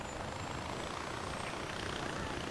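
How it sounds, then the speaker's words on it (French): A steady, dense video game helicopter rotor drone with a whooshing, chopping texture holds throughout, continuous and even, with no voices. From Far Cry 4. "je vais prendre l'hélico parce que ça, j'adore"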